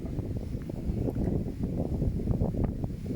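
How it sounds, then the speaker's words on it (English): Wind buffets the microphone with a steady low rumble and rustling gusts, no voices. "It was a very windy day when we filmed this."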